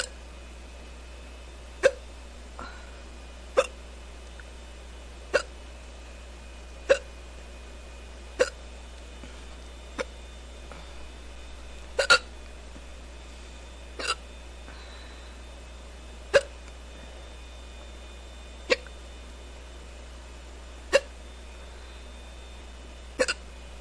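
A person hiccups again and again after a few sips of beer, sharp single hiccups spaced about every two seconds against a quiet low hum, with no speech.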